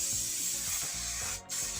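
Hairspray hisses steadily from a can onto a synthetic lace front wig, a close continuous spray that dips briefly near the end, over a soft low tonal background.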